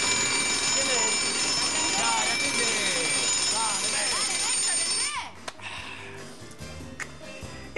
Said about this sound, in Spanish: En eso suena su teléfono,